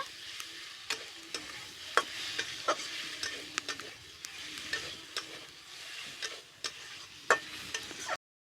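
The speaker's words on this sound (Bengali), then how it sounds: "এর মধ্যে জিরে বাটাটা দিয়ে দিলাম, দিয়ে আবার একটু ভালো করে কষে নেব" Diced potatoes, spices and cumin paste sautéing in a pan for a Bengali pangas fish curry, a steady soft sizzle with repeated sharp spatula scrapes and taps against the pan, close and alone.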